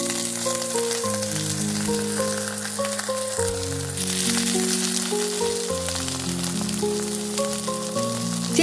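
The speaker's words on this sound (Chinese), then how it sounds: "盖上锅盖，开中小火，一面煎2分钟左右。" Beef puff pastry pan-fries under a closed lid over medium-low heat, a steady, even sizzle like light rain, with soft background music playing throughout.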